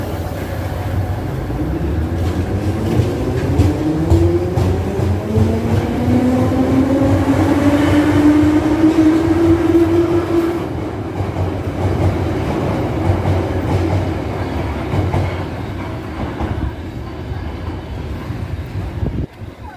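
A Moscow metro train of the Moskva-2020 model runs loudly and steadily, its rising motor whine sweeping up in pitch over a constant low rumble and track noise.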